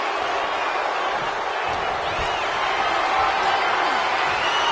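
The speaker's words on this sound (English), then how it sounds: "Just listen to this crowd. Every one of them is on their feet." A wrestling arena crowd in WWE 2K26 roars continuously at a steady loud level, a broad wash of cheering with no breaks.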